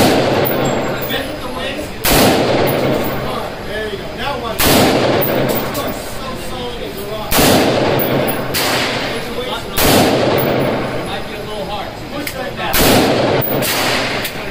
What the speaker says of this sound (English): This is at 20 yards, okay? Ready! Take your time to shoot, okay?